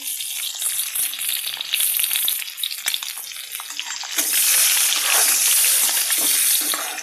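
Boiled eggs frying in a kadhai with turmeric and red chili powder, a loud continuous sizzle with occasional stirring clicks that swells louder partway through.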